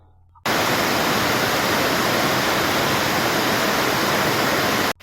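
Rainwater pouring into a newly built stadium pavilion, a loud, dense, steady rushing roar like heavy flowing water that starts abruptly and cuts off at the end.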